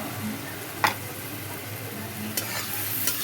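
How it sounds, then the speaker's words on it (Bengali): Frying in a pan for a fish chachchari with potato and brinjal, a steady close sizzle broken by a few scraping stirs of a spatula. "এটাকে ভালো মতো করে ভেজে নিতে হবে"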